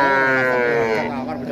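Cattle at a livestock market, including a young Pegon-type calf, giving one long, loud, close moo that stays steady and then wavers near the end.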